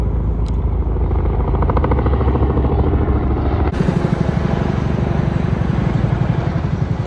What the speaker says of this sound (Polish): zaskoczył mnie fakt, że znowu widziałam 2 lub 3 helikoptery